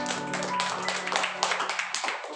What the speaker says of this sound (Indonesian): Yang percaya tepuk tangan buat Tuhan Yesus